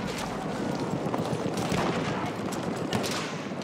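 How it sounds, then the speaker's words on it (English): Heavy gunfire in Battlefield 1 team deathmatch, a dense, continuous rattle of rapid shots and booms filling the whole stretch at steady loudness. "Machine gun right there!"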